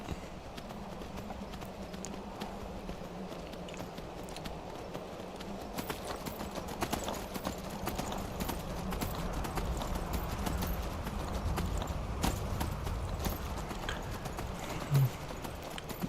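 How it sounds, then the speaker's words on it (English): Horse hooves clip-clopping at a steady gallop in the video game Skyrim, a continuous rhythmic beat under faint ambient wind, with no talk. "Swiftly he rode until he ended up catching sight with Vanjie and her horse."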